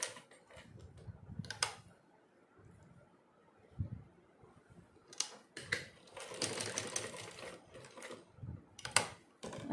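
A sewing machine stitches the base of a small doll's dress, running in close bursts of rapid mechanical chatter separated by pauses and handling of the fabric.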